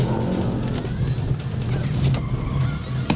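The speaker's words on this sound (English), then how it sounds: "The old handbrake, I'm sure you've done handbrake turns before, have you?" Car doing handbrake turns during stunt driving practice, with loud continuous engine roar and tyre noise that holds steady throughout.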